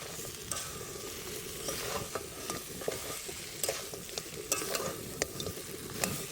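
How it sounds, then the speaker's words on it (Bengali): Crab pieces frying in spicy masala in a pan on a boat, with a continuous close sizzle and a run of regular stirring scrapes and clicks, no voices. "মশলাটা ভালোভাবে করার পরে আমি কাঁকড়াটা ঢেলে দেবো এতে"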